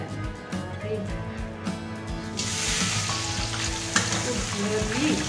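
Shrimp fried in salted egg in a hot pan, a close, steady sizzle that jumps louder partway through as more hits the oil, with scraping stirs and no talking.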